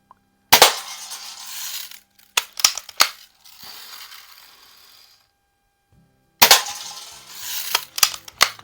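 A 1946 Daisy Model 155 lever-action BB gun firing at a can: sharp metallic cracks and pings in short clusters, separated by the scraping clatter of the lever and a long quiet gap, close and clear.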